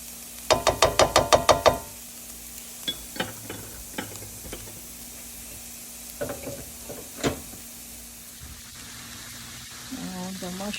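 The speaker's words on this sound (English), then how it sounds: "The onion is now browning nicely, so let's add the shredded mushrooms" Shredded mushrooms are added to browned onions in a frying pan: a quick run of sharp taps and knocks from the utensil against the pan, then scattered clicks over a low, faint sizzle.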